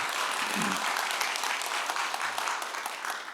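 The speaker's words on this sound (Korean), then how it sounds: "여러분 크게 박수 한번 해주세요." A church congregation at a Wednesday worship service applauds steadily, a dense, even wash of clapping that fills the whole moment without a break.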